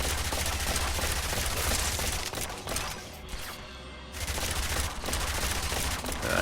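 Dense, continuous gunfire from Yet Another Zombie Survivors, a rapid loud fusillade of shots with a brief dip in the middle before the shooting picks up again, no talking.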